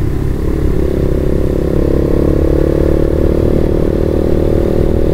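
A TMX 155 motorcycle engine held at high revs, a loud, close, steady roaring drone with a slight rise in pitch after the first half second, continuing unbroken throughout.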